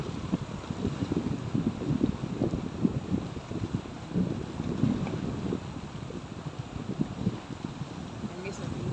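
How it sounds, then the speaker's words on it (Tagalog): Strong wind buffets the microphone outdoors on a roadtrip at Malapad in Real, Quezon, a steady rough rumble with gusty surges throughout. "Ang hangin dito guys."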